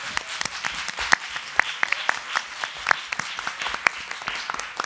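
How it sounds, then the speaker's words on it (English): Audience applause at an evening candidates' forum, steady clapping from a room of people with sharp individual claps standing out, sustained for several seconds. "Let's give our candidates a round of applause."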